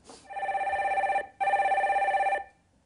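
Telephone ringing on a Korean call-in radio show as a caller is being connected, two loud electronic rings separated by a short gap, with no talking.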